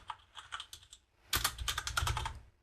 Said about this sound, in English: And that's done by simply typing git push